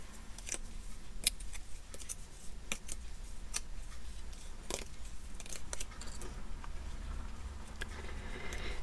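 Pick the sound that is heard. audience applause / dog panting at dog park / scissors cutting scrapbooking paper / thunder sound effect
scissors cutting scrapbooking paper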